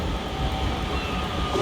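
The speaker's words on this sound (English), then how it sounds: "arriving over on the far side, the 1527 ScotRail Express service carriages." A ScotRail Express train from Glasgow Queen Street arrives at Edinburgh Haymarket on the far side of the station, its carriages rumbling and rattling steadily for a brief moment at moderate distance, with no voices.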